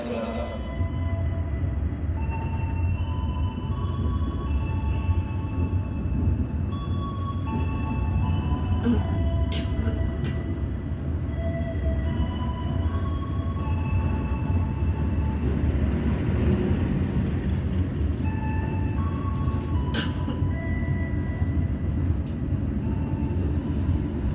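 A passenger train rumbles past steadily in Indonesia, a dense low roar with faint metallic squeals and clanks from the wheels, sustained throughout at moderate loudness.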